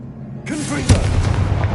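A Confringo blasting spell goes off in a fantasy video game, a sudden broadband burst that swells into a loud boom with a rumbling, crackling tail, heard close over faint background game noise.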